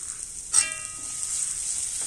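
Garlic drops into hot oil already frying green chilli in a pan, giving a sudden hiss that settles into a steady high sizzle, close and alone.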